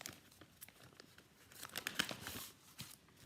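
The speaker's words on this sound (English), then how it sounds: "I'm just going to first cut a panel from here" Scissors cutting a panel from card paper, a close, quiet run of crisp snips and papery crinkles with no talk.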